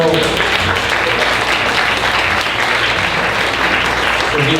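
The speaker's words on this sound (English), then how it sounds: "Let's give a big round of applause for all these incredible youth volunteers and adult volunteers" Loud, dense applause from a large audience at the Saratoga's Got Talent 2015 show, honoring youth and adult volunteers on stage; steady clapping fills the whole stretch, with faint voices mixed in.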